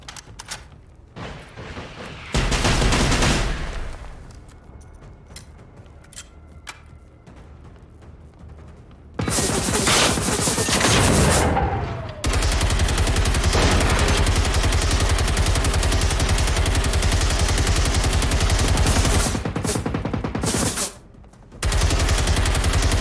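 Teammates' gunfire in the video game Generation Zero, heard as long, loud, sustained stretches of rapid automatic shooting broken by short pauses, with a brief early burst, close and dense, with no talk.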